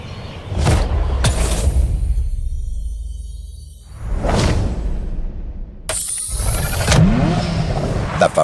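Ferrari F40 in The Crew Motorfest: a sharp engine roar and revving bursts separated by a quiet gap, with whooshing passes, a crashing shatter-like impact and a sustained high whine late on, loud and close.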